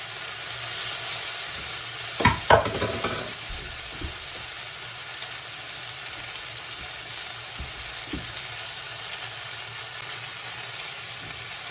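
Pork belly with alamang shrimp paste sizzles steadily in a hot pan, with a couple of brief scraping stirs near the start and quieter clinks later under the constant frying hiss.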